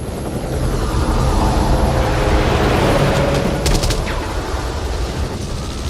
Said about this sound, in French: l'hélico là que tu vois là dans la séquence c'est James Cameron qui pilote